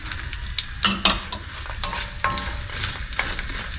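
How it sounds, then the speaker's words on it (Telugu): Coconut fries in a pan for a curry leaf and coconut chutney, with a soft sizzle broken by a few sharp spatula clinks and scrapes; no one talks. "ఇప్పుడు ఇందులో కొంచెం ఫ్రై చేసేసుకొని"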